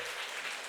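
Brief burst of congregational applause inside a church, a dense wash of clapping at steady volume with no pauses.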